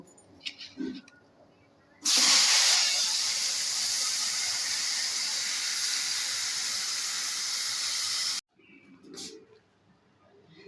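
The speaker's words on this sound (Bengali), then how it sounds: "এই তেলের মধ্যে হালকাভাবে পনিরটা ভেজে নেব।" Paneer drops into hot white oil in a wok and bursts into a loud sudden hiss that holds steady for about six seconds, then stops abruptly; quiet handling noises come before and after.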